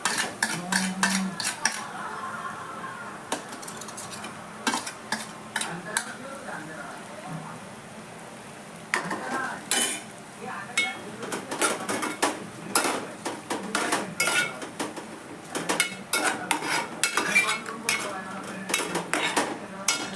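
Tomatoes with salt and spices stirred and roasted in a pan for Dhaba-style egg masala, heard as repeated scraping clinks of a spoon against cookware with faint sizzling, while a person talks intermittently over the kitchen sounds.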